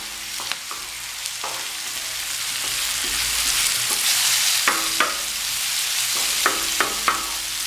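Finely chopped tomato and two green chillies stirred into sizzling egg bhurji in a pan, with steady frying hiss and a spoon scraping in irregular clicks.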